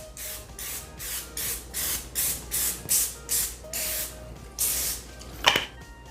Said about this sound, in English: We're gonna go ahead and hit it with some vegetable spray